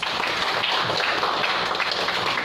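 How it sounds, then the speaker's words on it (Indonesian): A classroom audience applauds a student, a steady wash of many hands clapping together at moderate volume throughout. "Aplaus dulu untuk Nata."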